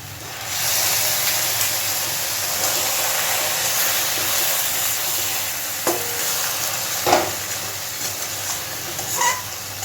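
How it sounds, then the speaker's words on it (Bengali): Soy mince curry sautéing in a pan with a little water added, a loud continuous sizzling hiss close by, with a few scraping stir strokes toward the end. "আরও কিছুক্ষণ আমি এইভাবে এটাকে কষাতে থাকবো, কিন্তু যাতে তলায় লেগে না যায় বা পুড়ে না যায় তার জন্য সামান্য একটু জল দিচ্ছি।"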